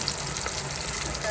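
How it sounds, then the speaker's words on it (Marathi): A dal tadka of onion, curry leaves, chili and cumin spits in hot oil, making a dense, continuous sizzling hiss at close range. "डाळीला तडका दिला आहे, म्हणजे कांदा, कढीपत्ता आणि मिरची आणि जिरा आहे"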